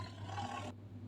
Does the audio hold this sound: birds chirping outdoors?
no